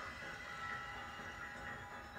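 A steady rushing rumble of a train running along tracks in The Lego Movie Videogame, faint and continuous with no pauses or voices.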